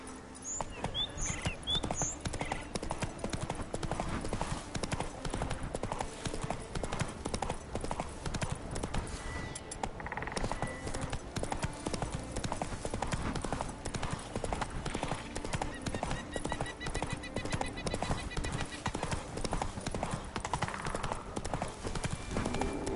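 Roach, a horse in The Witcher 3, gallops in a steady, continuous clip-clop of hooves, with a brief whinny and game music and ambience layered underneath.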